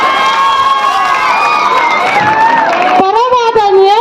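Crowd at a school Republic Day celebration cheering and shouting, many children's voices loud and continuous, with a voice speaking over the noise.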